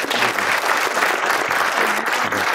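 A crowd at a sheriff's office swearing-in ceremony applauds steadily and loudly for a man's military service, a dense continuous wash of clapping.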